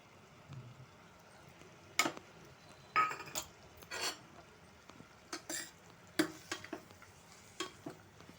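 Soaked chana dal being stirred in a cooking pan, a series of short scraping and clinking strokes of a utensil against the pan, irregular and fairly close, over a quiet low background.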